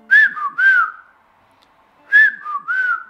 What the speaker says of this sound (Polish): żeby czasami wydać z siebie jakieś świsty podobne do takiego gwizdania